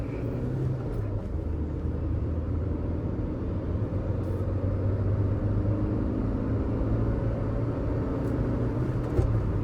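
A Kia Sonet car accelerating to show its power gives a steady, fairly loud engine and road rumble that runs unbroken throughout, with no talking.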